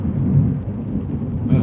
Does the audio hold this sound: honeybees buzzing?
no